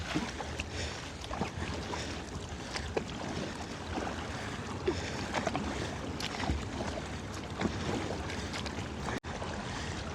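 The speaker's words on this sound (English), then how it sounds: "I'm just going to stay strong paddling and kind of keep the kayak moving forward" Kayak paddling through strong currents in the Hell Gate channel of New York City, with steady water rush and wind noise and soft, irregular paddle splashes close by, no talk.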